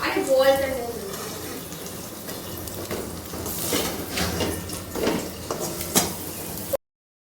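Water poured from a tap over split peas (matar dal) in a home kitchen to soak them, a steady running splash lasting several seconds before stopping abruptly, with a voice talking over it.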